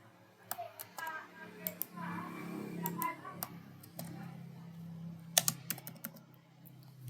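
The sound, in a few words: typing on a computer keyboard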